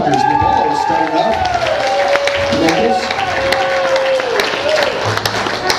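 Sustained applause and cheering from a live concert audience for an opening band, a dense steady wash of clapping with a whistle-like tone rising above it throughout.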